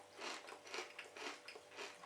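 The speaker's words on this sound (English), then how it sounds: "A very good crunch." Tyrrells sea salt and cider vinegar crisps crunching between the teeth, a steady run of close, crisp bites about every half second, with no talk.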